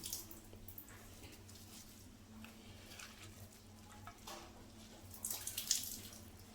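Raw water poured off from cooking banana flower in a village kitchen, a soft, faint running and splashing of water at close range, swelling briefly near the end.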